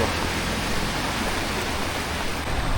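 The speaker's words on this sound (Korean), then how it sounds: "파도 소리 너무" Steady rushing wash of surf on a rocky, pebbly beach in Mui Ne, Vietnam, a continuous broadband roar without distinct breaks, fairly close.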